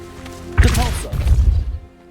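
A Depulso force spell from Hogwarts Legacy strikes with a loud, sudden whooshing thud. A rumbling crash follows and trails off over about a second.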